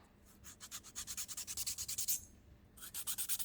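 A smoother-grit nail file buffs a fingernail in quick, rhythmic strokes, a soft scratchy rubbing close up and faint, with a short pause before a final burst of strokes.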